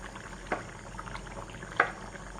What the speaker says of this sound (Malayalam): തിളച്ച ഗ്രേവിയിലേക്ക് പിന്നെ പുഴുങ്ങി വെച്ച മുട്ടയിൽ ഇട്ട് കൊടുത്തിട്ട് ഒരു 1-2 മിനിറ്റ് നന്നായി ഒന്ന് തിളച്ചിട്ടുണ്ട്